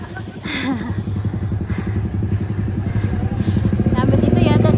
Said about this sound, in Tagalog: Ang daming mga motor dito.